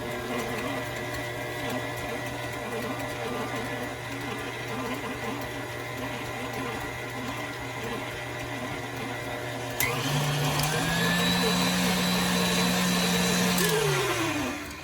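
An electric mixer beats a cheesecake filling of eggs, cream cheese and vanilla, a steady whirring drone that shifts to a louder, higher-pitched whine partway through and winds down near the end.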